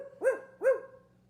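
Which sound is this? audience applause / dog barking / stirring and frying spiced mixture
dog barking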